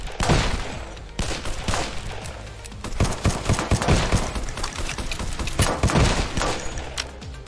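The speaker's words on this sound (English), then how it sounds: "I've got a new gun. That's quite a powerful lot." Gunfire from a powerful weapon in the VR shooter Silicon Rising rings out as loud, dense volleys of close shots. The sharp bangs come in an irregular rapid rhythm throughout, with no speech.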